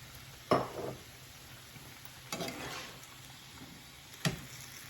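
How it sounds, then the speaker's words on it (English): Dates being stirred into a tomato mixture in a pot, three separate scraping, clattering stirs spaced a couple of seconds apart over a faint low sizzle, quiet and close. "I'm going to put all the dates with that and mix it"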